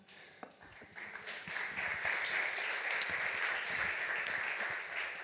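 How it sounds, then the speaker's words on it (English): A security conference audience breaks into a warm round of applause for an incoming speaker, with the clapping swelling quickly and holding steady, a few sharp claps standing out. "Please give a warm round of applause."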